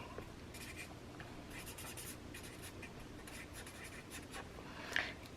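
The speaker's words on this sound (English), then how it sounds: "I'm going to write" A pen writes on paper during a giveaway drawing, giving soft, steady scratching strokes close by, with a slightly louder scrape near the end and no speech.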